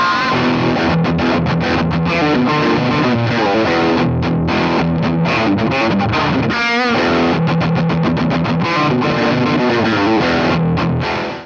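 Electric guitar riff played through drive, distortion, delay and reverb pedals: a loud, continuous, heavily distorted and effected run with dense sustained chords and brief gaps, playing alone without talk.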